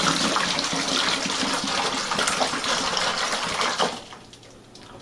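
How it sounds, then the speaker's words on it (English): Pineapple juice pours steadily into a wine fermenter with a close, gushing, splashing rush that tapers off near the end. "put the pineapple juice in this one"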